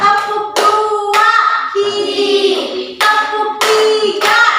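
Hands clap in rhythm during a counting clapping game in a classroom, with sharp bursts arriving in short groups while a voice sings or calls out between and under the claps.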